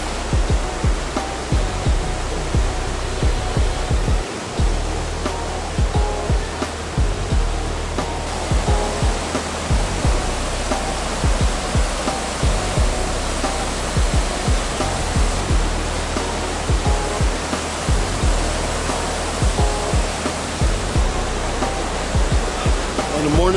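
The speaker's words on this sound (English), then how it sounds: "The water's flowing nicely." An Oregon forest creek flows steadily over rocks, a dense, continuous rush of water that stays loud and even throughout, with small splashes and gurgles close by.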